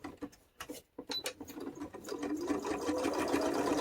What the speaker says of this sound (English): if you have a sewing machine sitting around somewhere that you barely ever use